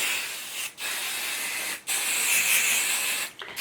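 An aerosol can of spray adhesive hisses in three sustained bursts onto cotton quilt batting, separated by brief pauses, close and fairly loud with no talking.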